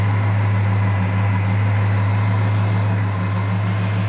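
A 1970 Pontiac GTO Judge with its YS-code 400 V8 idles close by, a loud, steady low rumble with an even pulsing hum and no talk over it.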